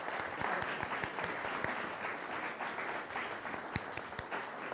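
An audience breaks into sustained applause to welcome speaker Tony Barr, a dense, steady wash of many hands clapping that holds at even loudness throughout, with no voices over it.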